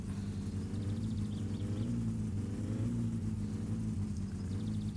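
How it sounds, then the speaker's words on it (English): A car engine idling as it warms up in My Summer Car, a continuous low, throbbing rumble with a slight rise in pitch partway through, steady and unaccompanied by speech. "This is the mixture coming up as the engine gets warmer."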